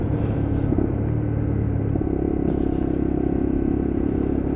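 A Lexmoto LXR 125cc motorcycle engine drones steadily and loudly, winding up under load in sixth gear with a low rumble throughout.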